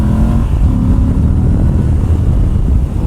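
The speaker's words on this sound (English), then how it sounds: "The engine sound that this bike makes is just sublime." A Moto Guzzi V85 TT adventure motorcycle from 2020 runs with a steady, loud, low engine rumble and a deep, constant drone throughout.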